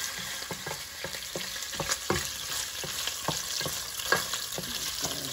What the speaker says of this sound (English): We let this pork cook first before we will put the other ingredients